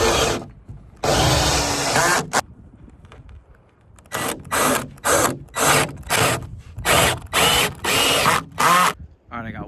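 A power drill drives screws into wood and plywood in a series of repeated high, whirring bursts, each a second or so long, with rubbing and handling noises between them and occasional quiet speech.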